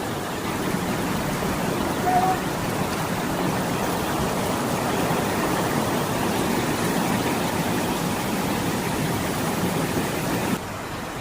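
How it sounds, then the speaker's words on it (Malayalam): A river runs over rounded stones near a waterfall, giving a steady, dense rush of water that holds evenly for the whole stretch and drops slightly at the very end. "അപ്പോൾ പുഴ ഇത് കൂടെ മാത്രം ഒലിക്കുന്നത് കണ്ടോ"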